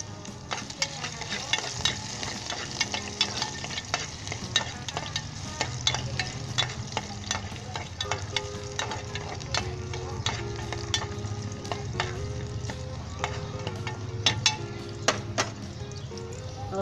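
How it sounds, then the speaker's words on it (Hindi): Garlic browning lightly in hot oil for an egg adobo gravy, with a continuous moderate sizzle, repeated spoon stirs and clinks against the pan, no voices. "सबसे पहले लहसुन डाल दें। इसे हल्का सा ब्राउन कर लें।"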